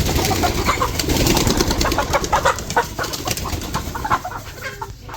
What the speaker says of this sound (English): Chicken zoomies.